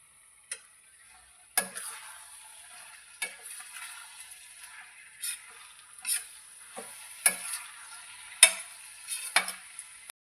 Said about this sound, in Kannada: ಈ ಎಣ್ಣೆಲೇ ಒಂಚೂರು ನೀರಿಲ್ಲದಂಗೆ ಫ್ರೈ ಮಾಡ್ತೀನಿ.